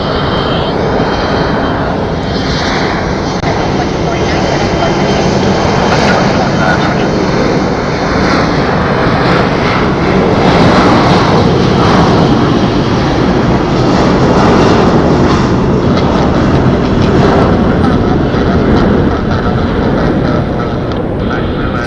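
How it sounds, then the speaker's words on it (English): Airplanes departing Phoenix Sky Harbor Airport, including an Embraer E175 regional jet, make a loud, steady jet engine roar that swells and rumbles continuously, close and dominant throughout. "these planes are loud"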